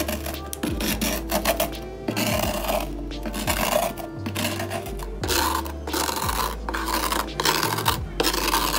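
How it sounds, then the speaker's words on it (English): Dried aloe vera is scraped from a surface to make powder, producing loud, close, rhythmic rasping strokes repeated roughly every second, each a harsh grating scrape with brief pauses between. "So it is fully dried and we're going to scrape it up now so that we can make our powder."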